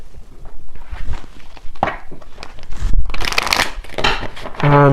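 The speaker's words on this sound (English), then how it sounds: "So let me grab a few oracle cards here." Oracle cards are handled and shuffled for a tarot reading, with soft rustles and crisp riffling bursts close by, a few thumps and breathy pauses between, and a brief tonal sound at the very end.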